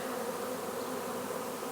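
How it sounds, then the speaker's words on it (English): A large honey bee swarm fills the air with a dense, continuous buzzing drone, close and steady throughout, with no voices over it. "guys, there's bees everywhere"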